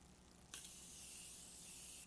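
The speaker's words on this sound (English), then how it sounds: "Alright, last thing is the setting spray" Morphe setting spray misted onto a face in one steady, close hiss of about a second and a half after a short quiet pause.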